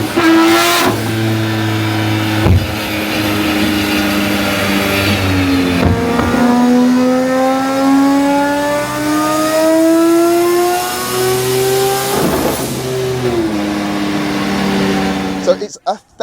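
A 1,000 hp three-rotor engine with a Garrett G45 turbo in a carbon-Kevlar 1989 Volvo 745 revs hard, loud and close, its pitch sweeping up and dropping in repeated pulls.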